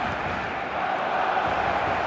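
Stadium crowd noise from the football video game eFootball, a dense, steady roar of many voices filling the whole clip at an even level, with no distinct chants or individual shouts.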